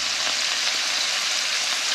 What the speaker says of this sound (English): start frying up some sausage